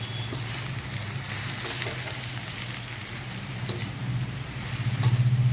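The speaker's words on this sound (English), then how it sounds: "2 teaspoons red chili powder, and we'll saute it first" Red chili powder and coriander powder sauté in a pan for a potato dish, giving a steady, soft sizzle throughout that gets a little louder near the end.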